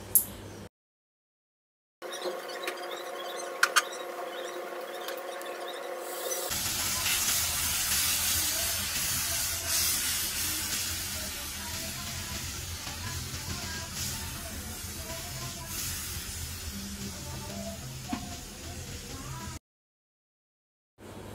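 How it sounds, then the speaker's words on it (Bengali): Spice paste for beef haleem fries in hot oil with a steady, moderately loud hiss and sizzle that holds for most of the clip between short silent gaps. "তো আমি তেলের মধ্যে মশলাটা ভালোভাবে নেড়েচেড়ে ভেজে নিচ্ছি"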